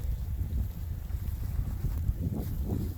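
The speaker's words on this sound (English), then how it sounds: "Yeah, it's windy and nasty," A strong wind blows during a blizzard on a farm, a continuous low roar buffeting the microphone with gusty rumbles and no voices.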